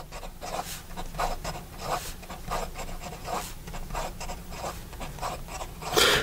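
A Laban Flora fountain pen with an extra fine steel nib is scratched rapidly across paper, giving close, dry, rasping strokes in quick irregular bursts with brief pauses between words, with no talking.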